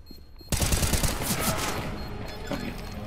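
Rapid gunfire in Counter-Strike: a sudden loud burst of automatic shots starts after a brief quiet moment, then rattles on densely with sharp cracks to the end.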